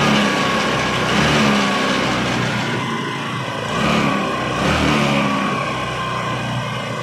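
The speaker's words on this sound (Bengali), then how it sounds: "এবার গাড়িটা আমরা স্টার্ট করে দেখি" A Honda Dio scooter engine runs after a head and piston repair, set to a high idle, with a steady loud drone that swells a little around the middle.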